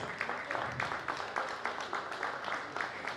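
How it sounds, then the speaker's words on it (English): Audience clapping at a Nigerian Society of Pharmacognosy annual general meeting and scientific conference, a thin, modest round of hand claps with regular pulses over a steady room background, fairly quiet and distant. "Please, can we give her a round of applause?"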